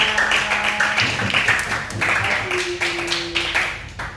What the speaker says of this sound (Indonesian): Tepuk tangan buat Pak Kesha